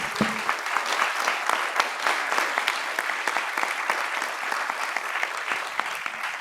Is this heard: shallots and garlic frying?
no